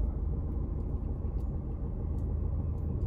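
A car rolls past on a street in Pyatigorsk, a steady low rumble of engine and tyres close by, continuous throughout with no talking.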